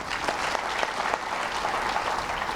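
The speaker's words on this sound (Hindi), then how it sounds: "जोरदार तालियां लगाए" A large crowd at a Swami Ramdev gathering claps loudly and continuously, thick even applause close and alone for the whole stretch.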